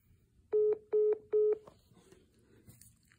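Three loud, evenly spaced telephone keypad tones sound as a number is dialed while calling a rehab facility in Miami, Florida. Each tone is short and clear, with faint background noise between them and afterward.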